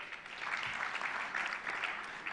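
An audience at a Nigeria Customs Service event bursts into applause, a fairly faint but dense patter of many hands clapping that builds slightly and carries on steadily.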